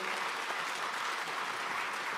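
Audience applause at a provincial public hearing on administrative integration in Haenam County, a steady wash of many hands clapping together, even and sustained throughout with no voices standing out.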